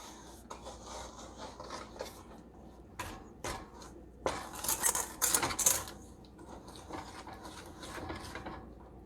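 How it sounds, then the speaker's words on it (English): A cookie mixture is stirred in a pot on a stove, giving irregular scraping and rasping strokes with a few sharper clinks of utensil against metal, fairly quiet and close with no talking. "Now we're just going to stir and mix it all up."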